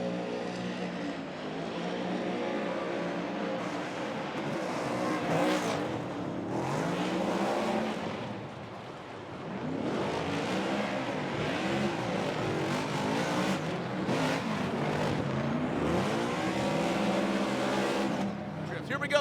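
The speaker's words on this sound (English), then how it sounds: "listen to the BC Racing Data Tire Ford Performance Mustang RTR Spec 5D of Chelsea DeNofa" Ford Performance Mustang RTR Spec 5D drift car on BC Racing Data Tire setup, roaring and revving hard through a competition drift run, a loud sustained engine howl with rising and falling pitch, crowd or commentary voices mixed underneath.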